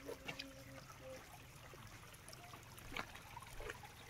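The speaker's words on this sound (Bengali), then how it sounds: "এই দেখো কারণ পাথরের উপর দিয়ে জলটা পড়ছে" Water trickling down over stones along a hill road near Namchi, a steady soft splashing wash with a few brighter drips, fairly faint, with no talk over it.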